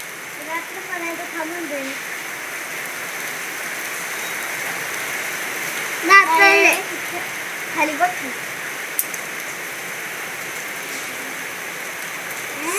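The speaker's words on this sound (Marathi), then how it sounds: "सणाच्या दिवशी पाऊस येत आहे" Steady rain hisses as a constant wash in the background on a festival day during Diwali, with brief bursts of voices and a few sharp sounds rising over it midway.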